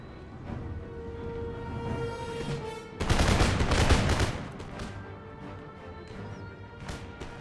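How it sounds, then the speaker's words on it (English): Howitzer artillery firing in the Empire Total War video game: a heavy, crashing volley erupts partway through, loud and dense for about a second over a steady low battle rumble, then trails off into scattered distant reports. "Howitzers need to get into position and just start firing now"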